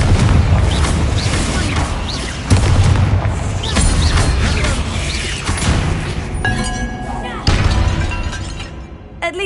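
Repeated booming blasts and shattering crashes from a Confringo fire spell in the Hogwarts Legacy video game, loud and close, several impacts in sequence with debris and game effects, voices talking in between.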